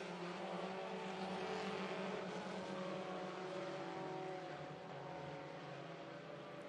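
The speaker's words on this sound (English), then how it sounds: "that's a good-looking race car. That white-black with fluorescent yellow numbers working down the" A race car runs down the front straightaway, its engine a steady, loud roar holding throughout without a break, with no voices over it.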